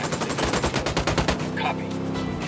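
Rapid automatic gunfire from a PS4 video game, a loud dense burst of shots that carries through the first half and then thins out, with a faint voice underneath.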